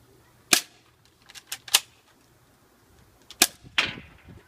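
BB gun shots striking a chocolate Easter egg: five or six sharp, close cracks in two clusters, the last few with brief rattling impact tails, over quiet background with no talking.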